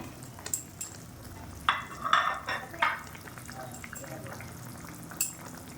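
Pieces of fried Gang Mourola fish go into a boiling mustard curry: a soft bubbling simmer broken by a short cluster of clattering pan and utensil knocks, then a quieter stir.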